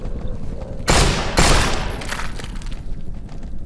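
Gunfire in the zombie game No More Room In Hell: two loud, close, sharp blasts in quick succession with a rattling tail, over a constant background rumble and no talking.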